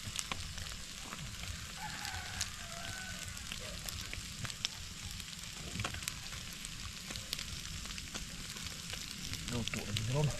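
Tilapia frying in a pan of oil, giving a continuous crackling sizzle with scattered pops that holds steady throughout and grows slightly louder toward the end.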